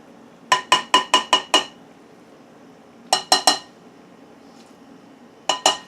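Spaghetti pasta salad tossed with dressing in a bowl gives loud, close, bright clinks in quick runs, first six, then three, then two, with no talking.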